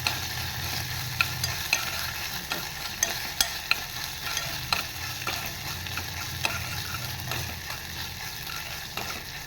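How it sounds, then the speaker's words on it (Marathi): Ginger, green chilli, cumin and curry leaves sautéing in a pan, a steady low sizzle punctuated by frequent sharp spatula scrapes and taps against the metal, close and moderately loud. "आणि त्याचबरोबर कढीपत्त्याची पानं पण टाकणार आहे थोडी. छान अशी परतवून घेणार आहे."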